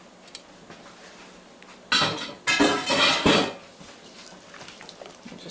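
A spoon clatters and scrapes against a dish as broccoli casserole ingredients are mixed. The sound comes in a couple of short, loud bursts of clinking in the middle, with quiet before and after.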